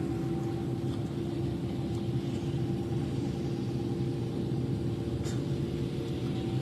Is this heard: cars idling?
yes